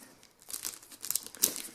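Plastic wrap resembling cellophane on a trail camera box being cut open, giving a short series of close, crisp crinkling and tearing rustles.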